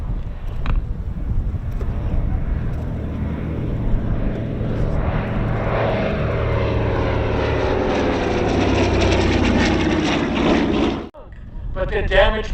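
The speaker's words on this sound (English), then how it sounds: "Coming around from the left, this is a C-53." A C-53, a civilian DC-3 drafted for wartime service, flies past at a World War II airshow, its propeller engines swelling into a loud, rising drone that peaks and then cuts off sharply near the end.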